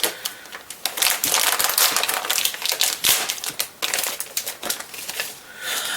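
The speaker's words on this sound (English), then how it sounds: "So I'm just gonna rip this open" A plastic toy package from Dollar Tree being ripped open by hand, with loud close crinkling and tearing in bursts and sharp crackles, no talking.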